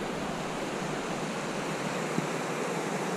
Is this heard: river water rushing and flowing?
yes